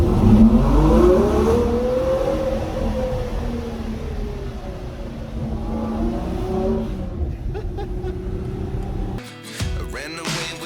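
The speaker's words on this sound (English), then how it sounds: "V12 Ferrari through a tunnel, you've just got to, haven't you?" A Ferrari Purosangue's 725 hp V12 accelerates through a tunnel, its rising, echoing howl sweeping up through the gears in long pulls, loud and close, before a sharp lift-off near the end.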